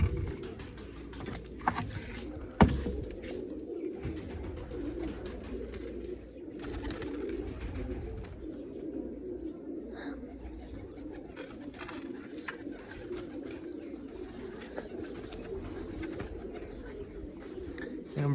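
Pigeons, kept young birds among them, coo in soft low repeated calls close by, with faint scuffling and a sharp tap partway through, and no talk over them.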